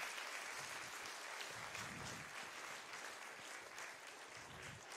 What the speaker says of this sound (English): Why don't we give all of these guys a round of applause?